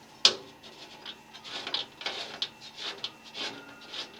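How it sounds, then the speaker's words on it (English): A nut being backed out to free an analog gauge from a ChefsTemp S1 cooker, heard as a series of soft metallic clicks and scrapes at an irregular pace, close and fairly quiet. "all I'm gonna do is I'm gonna back this nut out"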